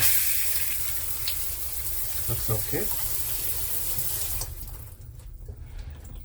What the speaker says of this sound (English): I usually like to check the water pressure in the shower also